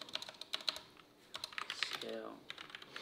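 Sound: typing on computer keyboard

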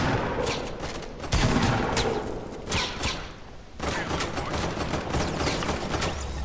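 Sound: gunfire in video game Fortnite

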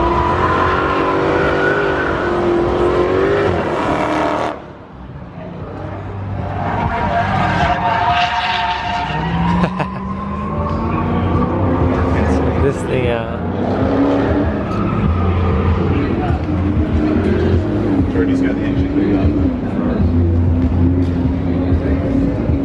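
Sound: Ferrari 488 GTB engine during hot lap drifting

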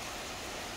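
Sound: cold rain falling outdoors in Gobustan

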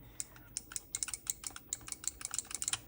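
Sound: arcade stick of SNK Neo Geo CD gamepad clicking

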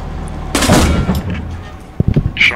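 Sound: tank gun firing in video game Post Scriptum

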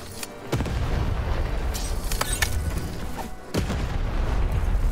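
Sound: cannon firing in the video game Lost in Random

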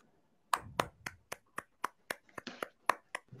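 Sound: applause after a card trick

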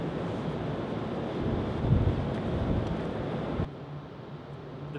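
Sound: wind on a 40-story building rooof

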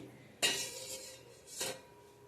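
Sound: metal ring placed into a pot of water

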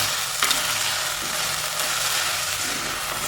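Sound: onions sautéing in pan

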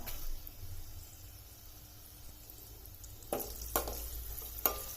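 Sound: dried red chillies and curry leaves sizzling in hot oil

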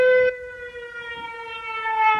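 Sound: air raid siren in Ukraine

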